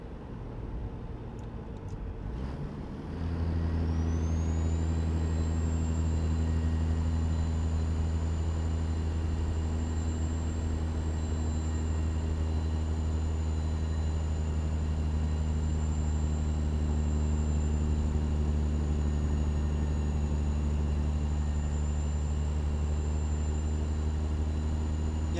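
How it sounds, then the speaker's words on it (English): A heavy truck engine labors up a grade in American Truck Simulator with the window cracked open, a steady loud low drone with a sustained high whine after it revs up at the start. "Open the window up just a bit so you guys can hear the truck working a bit."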